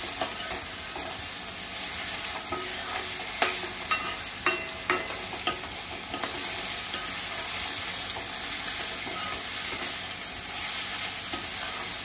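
Chopped onions with crushed ginger and garlic fry steadily in hot oil for a chicken dish, a dense continuous sizzle with a few light clinks and scrapes of stirring partway through.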